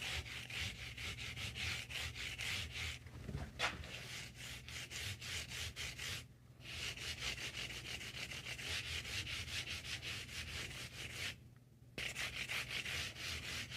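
Sandpaper rubs rapidly back and forth along the fret sides of a left-handed Squier Stratocaster, making a steady, rhythmic scratchy rasp that stops briefly twice before resuming.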